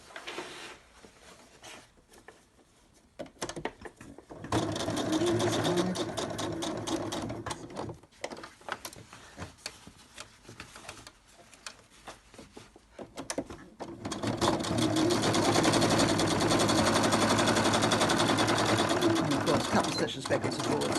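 A sewing machine stitches ribbon fringe in quick, steady runs of rapid needle clatter, stopping and starting between bursts, close and fairly loud, with a person speaking quietly during the pauses.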